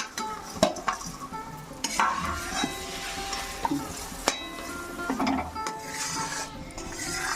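Jaggery cooking and being stirred in a pan for kul (jujube) pickle: soft continuous sizzle with repeated scraping and clinking strokes of a spoon against the pan, steady and close, with no talk.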